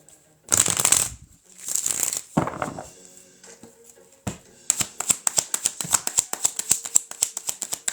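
Tarot cards are shuffled close by: a few heavy riffling swishes, then a quick run of crisp, rhythmic card snaps and flicks.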